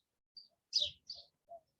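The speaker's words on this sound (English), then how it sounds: "I'm sure that bird is really loud in the background." Birdsong at sunrise outdoors: several short, clear chirps and whistled notes in a sparse sequence, fairly faint and distant against an otherwise quiet background.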